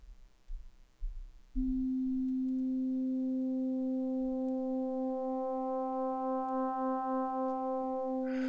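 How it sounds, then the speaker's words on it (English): After a few soft bumps, a steady FM synthesizer tone from two same-frequency sine waves on a TubeOhm Alpha-Ray begins and gradually gains brighter overtones, growing buzzier with a slight wobble as it sustains alone. "Let's at first just listen to simple modulation. Both waves are sine waves."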